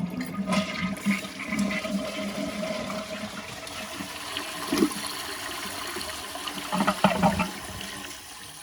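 A 2001 Gerber Aqua-Saver toilet flushes up close: a loud rush of water that surges, gurgles in bursts and tapers off as the bowl drains and the tank refills, with no one talking.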